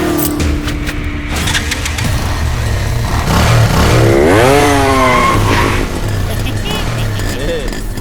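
Motorcycle engine idling and revving loudly alongside car engines, with tire noise and rising whine partway through, all under continuous talk.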